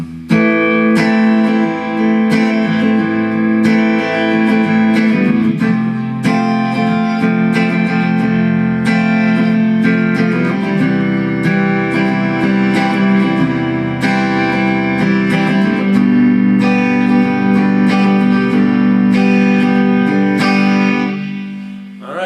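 Guitar plays through the full chord sequence of the solo, steady strummed chords changing every couple of bars, close and loud with no talking, ending on a sustained chord.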